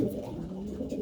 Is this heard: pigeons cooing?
yes